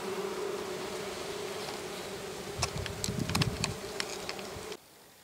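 Steady, close buzzing of many honeybees at log hives during October honey harvest, a dense droning hum with a few sharper passes as individual bees fly near, ending abruptly.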